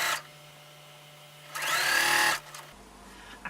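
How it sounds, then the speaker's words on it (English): A home sewing machine stitching scraps of fabric for a pet mat, running in one short whirring burst of under a second, near and steady, with quiet pauses before and after. "I can actually go a faster speed having my sewing machine on here"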